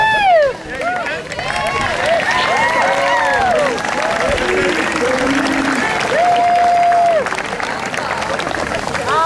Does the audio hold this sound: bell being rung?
no